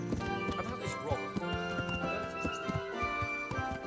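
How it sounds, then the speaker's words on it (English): Horse hooves clip-clop in a steady walking rhythm in a medieval crusading knight video game, heard under background music and spoken dialogue. "how could I get my horse to run again?"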